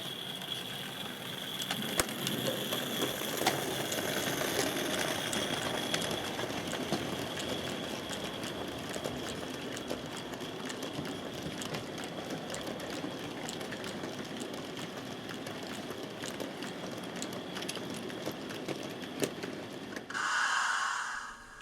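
Model LNER N2 tank engine fitted with a sound unit hauls a train of oil wagons on a model railway layout, producing a continuous low mechanical running noise with faint chuffing texture, plus a brief louder burst near the end.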